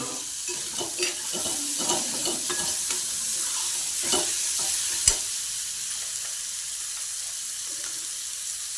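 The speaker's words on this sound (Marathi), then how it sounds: "आता याच्यात चांगलं परतून घेतो" Capsicum and tomato sautéing in a pan for a peanut-onion chutney, giving a continuous bright sizzle with soft scraping stirs and one sharp clink of a utensil partway through, no one speaking.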